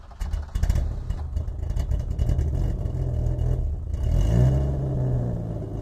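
A BMW M235i with a 3-litre single-turbo six-cylinder engine rumbles close by, a low steady drone with a rising note near the end and no talk over it.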